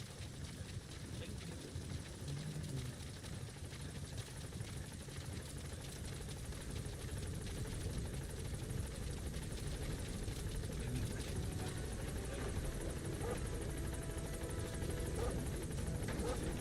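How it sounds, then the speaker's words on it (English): The support helicopter from the Metal Gear Solid V video game hovers close by, its rotor chopping in a steady, dense drone that fills the whole stretch without letting up. "Support helicopter has arrived."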